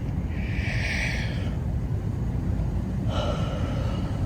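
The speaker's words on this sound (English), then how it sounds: "let's do a quick breath" A quick breath is drawn in and let out, a soft, close breathy whoosh in two parts over a steady low background hum during a guided meditation.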